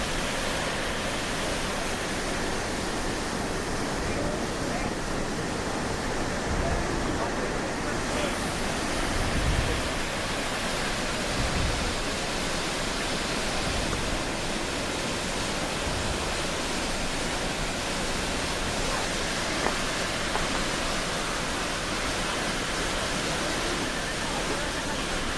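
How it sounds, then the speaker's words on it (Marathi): Constant, dense roar of water pouring down at the American Falls of Niagara Falls, heard close from below as an unbroken wash of noise, with indistinct voices faintly beneath it. "प्रचंड पाणी वरून आपल्या अंगावर पडताय असं इथं वाटतं."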